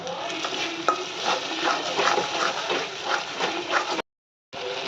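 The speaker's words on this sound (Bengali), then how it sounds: "এখানে আমার মশলাটা কষা হয়ে গেছে, তেল ছেড়ে দিয়েছে।" Masala sautéing in oil with Kashmiri red chili, a continuous close sizzle and fry with repeated stirring and scraping strokes, briefly cutting out near the end before resuming.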